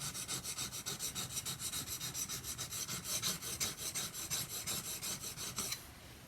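A steel chisel is honed on an abrasive sharpening stone, steady rhythmic rasping strokes back and forth at close range, about two per second, stopping just before the end.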